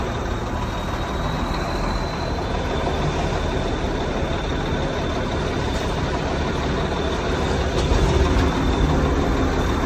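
A yard jockey switcher truck pulls forward with a trailer hitched, its diesel engine a steady loud rumble close by, with a faint airy hiss on top and no voices.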